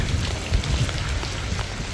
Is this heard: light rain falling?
yes